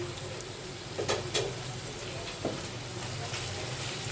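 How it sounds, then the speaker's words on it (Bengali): Onion and green chili sizzle in a pan with a splash of soy sauce, a faint steady frying hiss with a few soft stirring knocks, no voices. "পেঁয়াজটা ভাজি করলাম, কাঁচা ঝাল দিলাম। এবার 1 চামচের মতো সয়া সস দিলাম"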